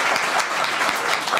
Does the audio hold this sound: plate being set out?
no